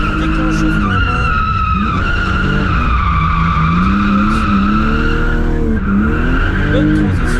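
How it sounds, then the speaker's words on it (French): Rally car skidding as the driver pulls the handbrake, a loud sustained tire squeal over a revving engine, pitch sliding up and down with a brief dip partway through. "Mathis Favé qui déclenche le frein à main"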